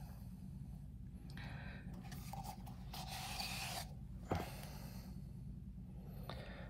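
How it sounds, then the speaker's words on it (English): Leftover cement mix scraped out of a small 1/12 scale brick mold, a quiet close rasping and rubbing in several short strokes over a low steady background hum. "Then I like to use all my material up. Just scrape it out of there."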